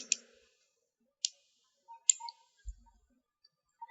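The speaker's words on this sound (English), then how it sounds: "Right click." Sharp, isolated computer mouse clicks sound in a quiet room, about four crisp taps spread apart with a soft low thump between them.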